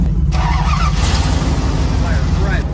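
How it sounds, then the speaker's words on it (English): A squarebody truck's engine held loud and steady at the rev limiter while hauling a second-gen Dodge, a continuous harsh roar filling the whole stretch with no pauses. "Hit her on the rev limiter."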